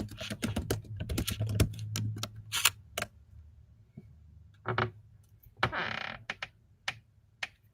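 Typing on a computer keyboard produces irregular bursts of crisp clicks and key taps, with quick runs separated by short pauses, close up and fairly quiet.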